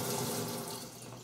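Tap water runs briefly over a leek at a kitchen sink, a short, faint steady stream with no talking.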